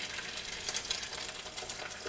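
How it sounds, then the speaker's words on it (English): Eggs frying in a pan on a kitchen stove give a steady, broad crackling sizzle that holds evenly throughout, with no one speaking. "you glance at him as the eggs sizzle"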